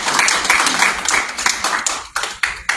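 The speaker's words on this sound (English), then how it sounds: "give yourselves a round of applause" A small group claps, a patter of hands that thins out into a few scattered, separate claps toward the end.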